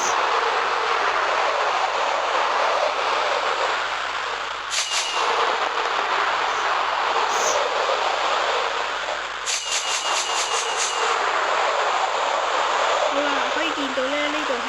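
A high-speed train on rails in a city-building video game rushes past in a loud, steady roar that lasts throughout, with brief bursts of rapid clicking.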